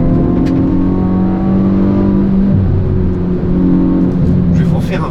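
A Hyundai i20N engine pulls hard under acceleration from inside the cabin, a loud, steady drone that rises in pitch, drops at a gear change, then climbs again.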